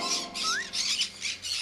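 A green-cheeked conure parrot gives a quick run of harsh, rasping squawks in rhythmic bursts, close and moderately loud, with one short rising whistle among them.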